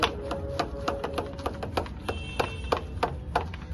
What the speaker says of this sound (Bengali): আমি এইটা দিয়ে এটা একটু পাম্প করে নিচ্ছি